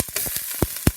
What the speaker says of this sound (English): that's the kind of sizzle you want to hear